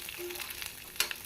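Onions sautéing in a pan for Tamil-style onion chutney give a steady, soft sizzle with a brief stirring scrape near the end, heard alone at close range.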